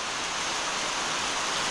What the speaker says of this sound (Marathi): कसा पाऊस पडायला लागला बघा.